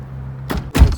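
Car door on a Russian VAZ being opened, a short mechanical clunk and rattle of the latch followed by a louder, fuller thud of the door swinging, close and alone over a low idle hum.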